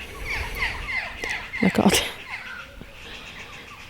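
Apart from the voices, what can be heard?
birds calling in a garden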